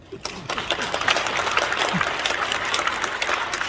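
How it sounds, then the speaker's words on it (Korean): Audience applause at a church retirement gathering honouring retired pastors, steady dense clapping from a large crowd that starts abruptly and continues evenly throughout. "이럴 때는 박수가 필요합니다."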